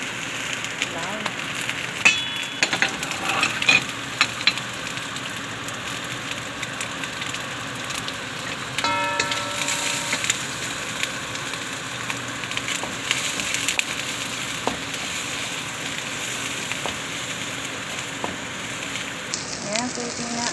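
Onion and garlic frying in hot oil in a pan for chopsuey give a steady, close sizzle that runs for the whole stretch, with occasional stirring clatters and light background noise.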